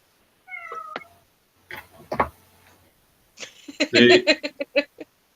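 A cat meows several times in short, separate calls, ending in a louder, stuttering cry, with quiet pauses between them and no talking.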